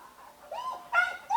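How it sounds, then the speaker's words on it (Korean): A dog gives a few short, whiny yips and whimpers in quick succession, fairly faint and sitting alone against a quiet background. "개가 짖어기고"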